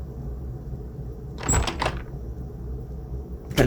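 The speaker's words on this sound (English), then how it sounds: "Door sound effect again." A door sound effect from a game scene: one brief burst of clattering thumps in the middle, then a short knock right at the end, all over a steady low hum.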